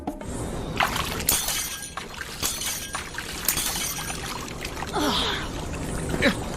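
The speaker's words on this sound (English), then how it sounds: "The water increased so forcefully it cracked the glass." Water gushes and splashes forcefully while glass cracks and shatters in sharp bursts, all loud and close with steady rushing noise underneath.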